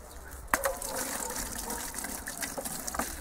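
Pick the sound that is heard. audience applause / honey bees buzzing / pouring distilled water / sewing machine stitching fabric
pouring distilled water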